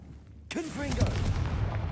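Confringo fire blast spell in Hogwarts Legacy, an abrupt, sharp burst after a brief quiet lead-in, followed by a rumbling fiery roar while someone talks over it.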